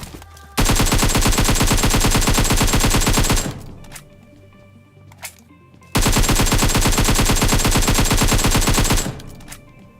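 Automatic weapons fire in a battle royale game as two long, loud, rapid bursts, each about three seconds, separated by a quieter pause with a few faint clicks.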